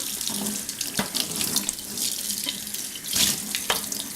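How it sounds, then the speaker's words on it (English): Kitchen tap water running into a sink while dishes are washed up after a vegetable curry and roti meal, a steady splashing flow with occasional clinks and louder gushes, close and alone. "I'll just do the washing up."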